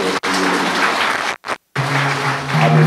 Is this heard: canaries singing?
no